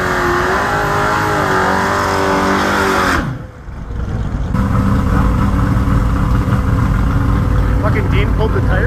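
A drag race car in the Outlaw Class at a no-prep shootout, loud broadband engine roar that drops out briefly partway through, then returns strong and sustained.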